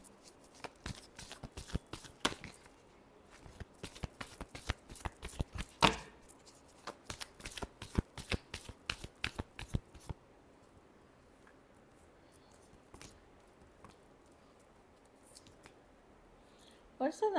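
Tarot cards are shuffled quickly and steadily in a rapid run of crisp riffling clicks, close and fairly quiet, then the shuffling stops and the sound goes quieter, with a voice speaking faintly underneath.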